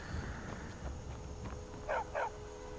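A dog barks inside the video game Skyrim, two short close barks in quick succession near the end, heard over a low game ambience.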